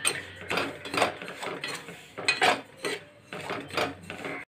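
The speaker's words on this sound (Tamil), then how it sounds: "ரவையை வறுத்து எடுத்துக்கலாம்" A spoon scrapes and stirs semolina (rava) roasting in a pan, giving a series of rhythmic, gritty scraping strokes about every half second. It sounds close and moderately quiet, with no talking.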